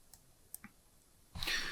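Several sharp computer mouse clicks spaced through a quiet stretch at an office desk, followed by a burst of louder broadband noise at the end.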